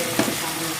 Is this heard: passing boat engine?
no